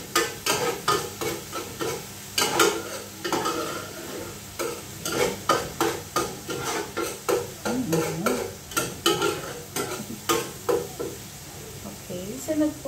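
Garlic and ginger sizzle in a hot pan as a utensil stirs and scrapes in repeated rhythmic strokes, close and clear, with a voice talking over the frying.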